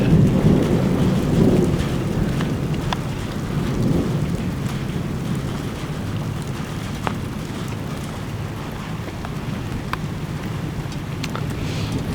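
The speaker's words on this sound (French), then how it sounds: "C'est tellement impressionnant les orages." Heavy rain pours down steadily through a thunderstorm, with deep rumbling thunder swelling near the start and a continuous close hiss of rain throughout.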